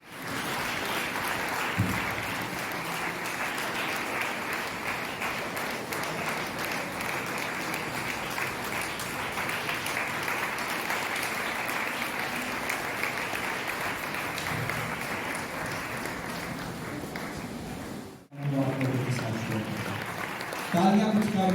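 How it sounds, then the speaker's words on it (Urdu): Sustained applause from a church congregation at a Sunday service in Pakistan, a dense unbroken roar of clapping for about eighteen seconds, then a brief pause and a voice speaking over lighter clapping. "پاکستان کے لوگوں کی خاص طور پہ لوگوں کی تالیاں کبھی تھوڑیاں تالیاں نہیں ہوتی ہیں"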